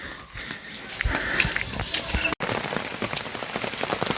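Heavy rain pours steadily on a walk from Kodaikanal to the Murugan hill temple at Thandikudi, a dense close hiss of drops with scattered footsteps and a brief dropout partway through.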